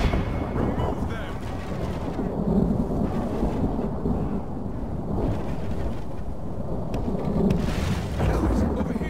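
Steady rain with deep rolling thunder in a Total War medieval mod campaign battle, a continuous low rumble swelling at moments, with a voice talking faintly over it throughout.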